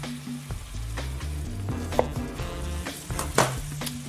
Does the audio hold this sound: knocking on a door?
no